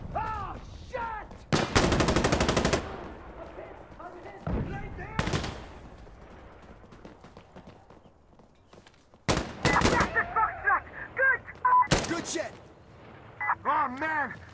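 Gunfire in the tactical shooter Insurgency: Sandstorm, with several loud bursts of rapid shots separated by quieter stretches and mixed with excited shouting from players.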